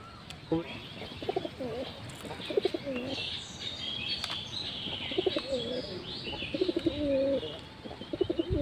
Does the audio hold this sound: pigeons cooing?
yes